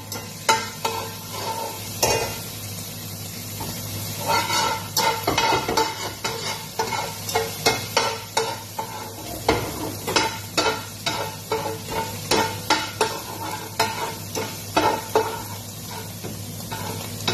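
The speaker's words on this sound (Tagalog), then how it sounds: "Bawang, magigisa po tayo." Garlic sautéing in a pan, sizzling steadily throughout with a rhythmic scrape of a spatula stirring it every second or so, close and fairly loud, with no voices.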